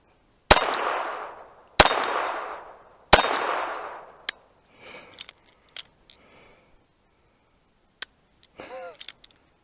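Three sharp, loud pistol shots from a Glock 19 fitted with an Advantage Arms conversion, spaced about a second apart with ringing decay, followed by quieter clicks and handling noises.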